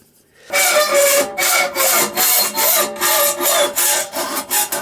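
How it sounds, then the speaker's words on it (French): A hacksaw rasps through metal in quick, regular back-and-forth strokes, loud and close, after a moment of silence. "La coupe à la scie à métaux, j'ai laissé de la matière."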